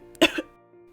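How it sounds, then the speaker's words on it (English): A short, sharp cough, one harsh burst followed by a weaker second hack, then near silence. "hearing his lover succumb into another coughing fit"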